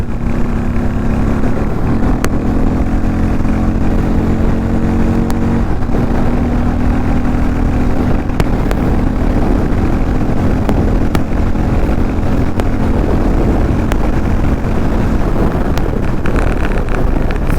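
A Harley-Davidson X440T motorcycle engine running loud and close, its exhaust droning under heavy wind rush, with occasional sharp pops breaking through the steady roar.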